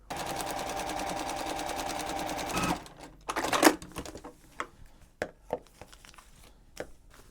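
A sewing machine stitches side strips onto a quilt block in a steady, fast run of needle strokes for almost three seconds, then stops, followed by clicks, handling noise and fabric rustle close by.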